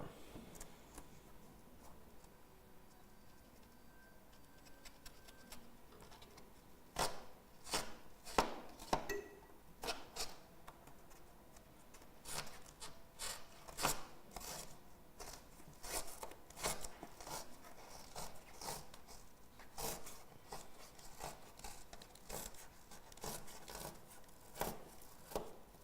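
Foam strip being cut with a knife while fitting a Duratech roof window on a profile tile roof, heard as a run of sharp, close scraping and slicing strokes that come in irregular bursts over a quiet outdoor background.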